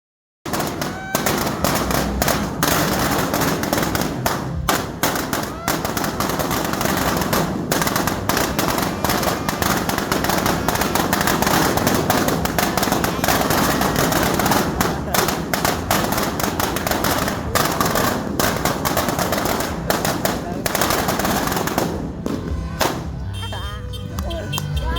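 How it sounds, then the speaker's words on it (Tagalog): Firecrackers and fireworks go off at a New Year celebration, a dense loud barrage of rapid crackling bangs sustained for over twenty seconds, thinning into scattered pops at the end, with voices audible in the background. "matapos kami magpaputok ng fireworks"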